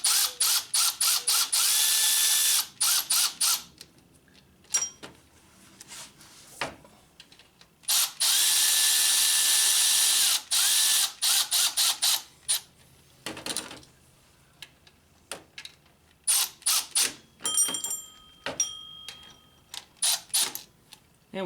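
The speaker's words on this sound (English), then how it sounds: "now we can take our electric tools and we can help ourselves out a bit" An electric ratchet or impact tool runs in repeated short bursts while snugging bolts on a 2003-2007 Honda Accord 2.4L engine during a power steering pump replacement, loud whirring spurts separated by quiet gaps and a few clicks.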